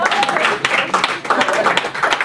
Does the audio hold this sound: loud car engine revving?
no